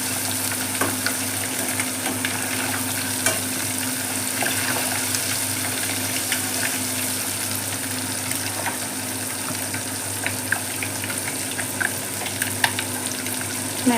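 Apollo fish pieces frying in a pan, a dense, even sizzle with crackling pops held steady throughout, close and unaccompanied by speech.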